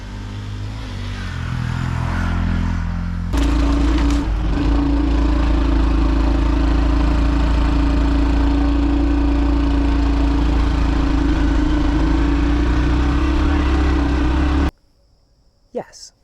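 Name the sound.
Honda CT125 motorcycle riding up a grass bank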